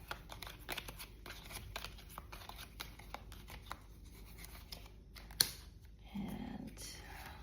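Playing cards from a tabletop card game are shuffled back into a draw pile, giving soft, close riffling and flicking taps at a low level, with a sharp click near the end.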